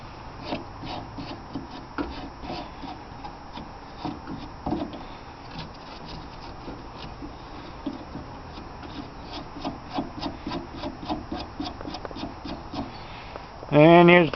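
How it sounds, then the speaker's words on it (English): Rapid back-and-forth rasping strokes of sanding on a pitted, cut-out car floor panel, fairly close and continuous, with a voice talking over parts of it and a louder burst at the end. "getting it sanded in here"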